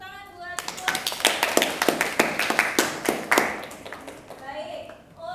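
Classroom applause for a student named Puput: a burst of quick, sharp hand claps from several pupils, close and fairly loud, with short stretches of voices at the start and end.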